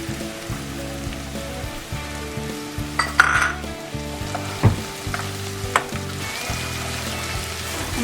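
Kasuri methi frying in hot oil for a tadka gives a steady close sizzle with crackling pops and a few louder spits and stirring clinks, no voices.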